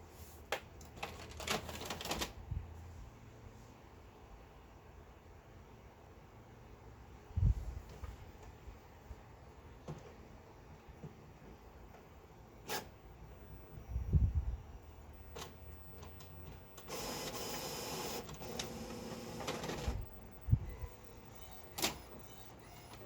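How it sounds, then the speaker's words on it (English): A home printer printing an image for a craft project gives off intermittent mechanical clunks and whirs, with a longer feed burst near the end. It is fairly quiet and nobody speaks. "so let's send this to the printer."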